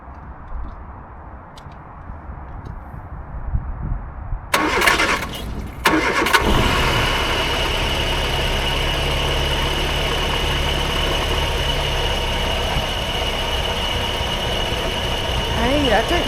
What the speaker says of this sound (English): when you turn it to crank, it doesn't actually crank, so you have to crank it at the start solenoid.